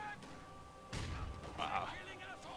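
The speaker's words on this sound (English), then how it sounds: "And I throw a grenade again." A grenade explosion in the Company of Heroes 2 battle between Wehrmacht and opposing forces, a sudden broad blast with rumbling debris and crackle, followed by continuing battle noise and mid-range clatter, moderately loud behind a quiet backdrop.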